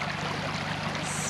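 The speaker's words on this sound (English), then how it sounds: "All you can hear is the trickling stream." Trickling creek at a crossing in Abercrombie River National Park, a steady soft wash of running water heard close and alone, with a faint low engine hum beneath it.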